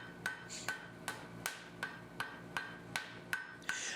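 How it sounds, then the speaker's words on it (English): A hammer taps a forge weld on a hand-forged hay hook in a steady series of about ten light, ringing metallic strikes spaced roughly evenly, close but moderate in volume. "Now this is where I'll tap it, just kind of get everything seated"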